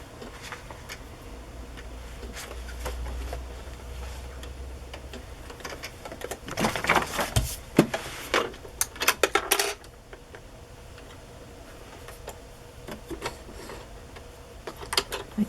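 A sewing machine stitches a small printable paper ticket label onto a craft journal page, a steady mechanical whirring with rapid ticking bursts, louder in the middle, fairly close and with no talking.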